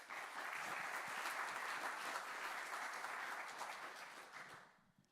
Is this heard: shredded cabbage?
no